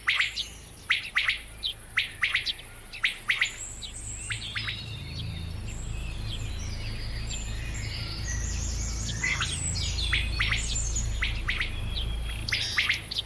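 A courting quail calls in a German forest with a run of short, sharp, repeated chirps near the start, followed by a steady hiss of insects and background ambience.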